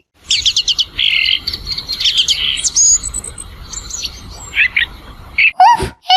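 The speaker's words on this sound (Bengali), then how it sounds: "বেশ কিছুক্ষণ ঘুমানোর পর পাখির ডাকে মিলির ঘুম ভেঙে যায়" Cartoon birds in a tree chirp and tweet in a Bangla Islamic animated cartoon, with bright, clear bursts of twittering calls that come in quick runs with short pauses between, loud and close.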